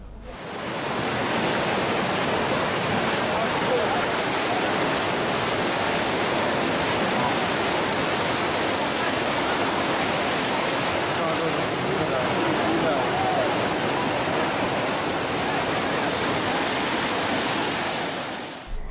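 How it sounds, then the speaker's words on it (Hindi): The fast current of the flooding Barandi river at Madgiya village, Barari, roars as a continuous dense rushing wash of water, loud and steady from start to finish with no voices. "आप खुद देखिए पानी के इस तेज करंट को।"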